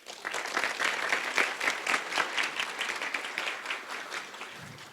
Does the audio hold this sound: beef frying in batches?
no